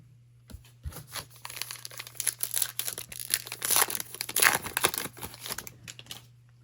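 A foil trading card pack wrapper is torn and crinkled close up, with a run of irregular ripping and crackling bursts that grow louder toward the middle and end.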